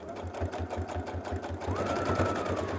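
A sewing machine stitching a zipper pouch, running steadily at close range with a fast, even thumping rhythm and a faint motor whine.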